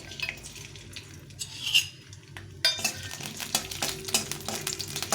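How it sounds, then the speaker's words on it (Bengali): Peanuts frying in a little oil in a wok over low heat, with the scrape and clatter of a spatula stirring them and a steady soft sizzle underneath, close and continuous. "প্রথমে এই বাদামগুলো একটু ভেজে নেব চিনে বাদাম"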